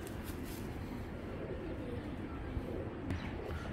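An old-breed Jack pigeon coos softly amid faint background noise, low murmuring calls with a small chirp or two near the end.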